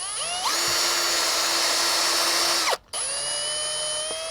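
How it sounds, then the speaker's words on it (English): A step drill bit bores a 12mm hole for a dual battery install on a Mitsubishi Triton, a loud steady high-pitched whine that holds for over two seconds, cuts out briefly, then resumes at a slightly lower pitch. "our first step would be to drill 2 12mm holes."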